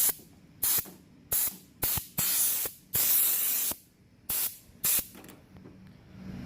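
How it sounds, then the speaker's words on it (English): Compressed air from an air compressor blasts metal shavings off a truck cab during a clearance light install, in about eight sharp, loud hissing bursts separated by short pauses, with no talking. "if you're married like me, use an air compressor"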